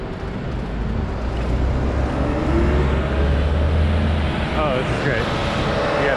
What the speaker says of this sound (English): Garbage truck and a Jersey box truck, both.